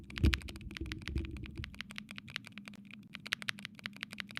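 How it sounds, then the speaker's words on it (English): Typing on Corsair mechanical keyboards, rapid, crisp, clicky keystrokes in a dense, steady rhythm, close and clear with no talk. "So we'll do a sound test on those."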